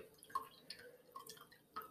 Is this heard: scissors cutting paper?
no